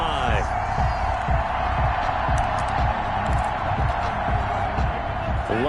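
A stadium crowd roars steadily in a PS4 American football game as the home side holds on the opening drive, a dense, continuous wash of cheering with scattered whoops under a commentator's voice.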